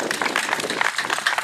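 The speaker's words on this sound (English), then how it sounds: "let's give a round of applause" Audience applause at an outdoor patriotic festival opening ceremony, a steady dense wash of many hands clapping throughout, fairly loud and continuous with a few scattered voices mixed in.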